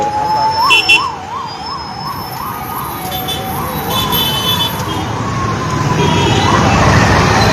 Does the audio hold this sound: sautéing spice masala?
no